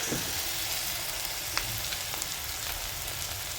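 Capsicum stir-fried in a hot pan for a Basa fish chilli dish, giving a steady broad sizzle with light scraping clicks from stirring, close and continuous, with no voices.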